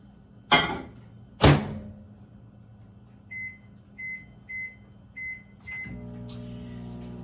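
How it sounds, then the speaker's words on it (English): A microwave oven heating two cups of milk in a microwave-safe measuring cup: two sharp thuds of the door, five short even beeps as the time is set, then the steady low hum of the oven starting. "I'm going to put it in the microwave for 2 minutes and 30 seconds."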